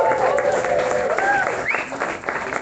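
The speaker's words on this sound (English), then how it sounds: "Can we get a big round of applause for" Audience applause for the Simpson College debate team at a Des Moines community event, a steady wash of clapping and crowd noise lasting the whole stretch, with voices and chatter mixed into the crowd.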